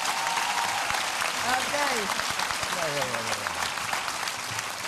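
Studio audience applause on a Dutch television show, dense continuous clapping for several seconds with voices speaking over it.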